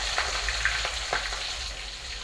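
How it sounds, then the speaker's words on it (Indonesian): Chili peppers for sambal sizzle steadily in hot frying oil, a continuous close hiss with faint stirring ticks and no talking. "Nah, goreng cabenya langsung yuk."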